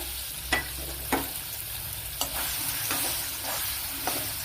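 Papaya chunks are stirred into a hot pan for a papaya pulincurry with chili powder, giving a constant soft sizzle broken by several sharp scraping stirs at irregular intervals.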